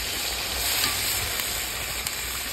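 Meat and radish cook in a pan as water goes in, giving a steady loud sizzle and hiss of frying with faint stirring clicks, close and continuous with no talk.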